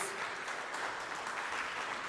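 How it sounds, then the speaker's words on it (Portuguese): Brief, steady applause from a church congregation praising God during a service, a dense wash of clapping throughout. "Você pode aplaudir o nosso Deus mais uma vez"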